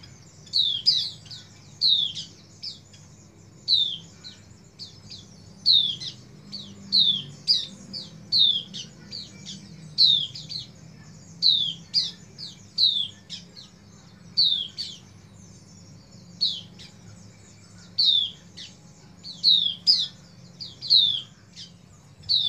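Thin, high chirping calls from a female oriental white-eye, repeated in short clusters over a steady low background hum, no voices.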